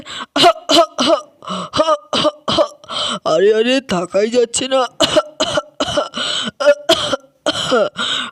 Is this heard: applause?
no